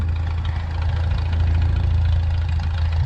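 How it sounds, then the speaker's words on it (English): A tractor engine idles steadily on a farm during grass planting, a loud, close, continuous low rumble with a faint knocking pulse and no voices. "I'm gonna fuel the tractor up and head to the other field."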